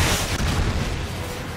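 Javelin missiles fire and explode in a video game match, a heavy rumbling boom that swells and rolls on as a dense, loud low-end blast wash, fading slightly toward the end.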